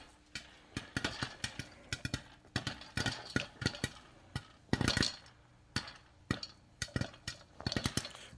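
Popcorn kernels popping in a pan on a stovetop, a steady run of sharp, close pops at an irregular rhythm, with a few louder bursts clustered in the middle and no talk.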